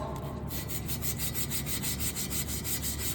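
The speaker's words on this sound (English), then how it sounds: "We want to take some brake cleaner and a piece of emery cloth" Emery cloth scrubs rust off the brake drum sheave of a baler's net-wrap brake, making a steady, rhythmic back-and-forth rasping close up, with rapid even strokes and no voice.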